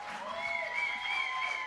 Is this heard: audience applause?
yes